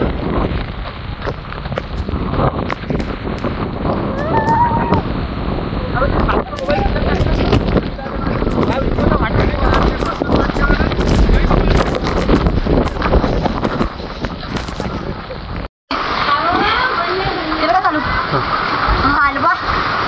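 Heavy rain pours down in a forest during an outdoor gathering, a dense, loud, continuous roar with wind buffeting the microphone throughout and a brief dropout near the end.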